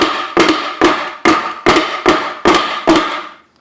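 Harbor Freight air palm nailer run at 90 psi hammering into wood, a loud, close series of eight evenly spaced sharp impacts, each with a short rattling decay, stopping abruptly.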